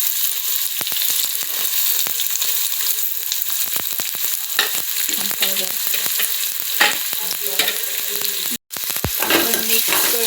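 Chopped onion dropped into hot oil with garlic already browned in the pan, loud close sizzling and frying with frequent stirring clatter throughout.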